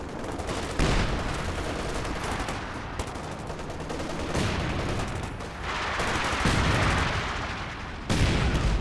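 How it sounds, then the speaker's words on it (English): Heavy artillery barrage from the Company of Heroes 2 strategy game in a 2v2 match, a dense loud roar of repeated booming impacts and crackling fire that swells in waves, strongest near the end. "Ooh, big Scott barrage"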